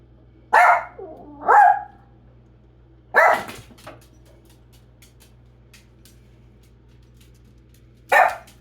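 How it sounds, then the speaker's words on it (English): A dog barks loudly and close, a few separate barks with pauses between them, the last one after a longer quiet gap. "He is barking so much that his whole body is jumping"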